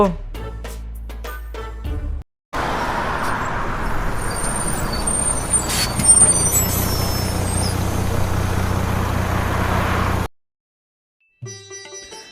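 A bus with air brakes runs close by for about eight seconds, a steady loud engine and road roar with brief high hissing, cut off abruptly before a quiet gap.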